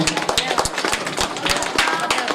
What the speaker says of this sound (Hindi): जी शुक्रिया, जोरदार तालियों से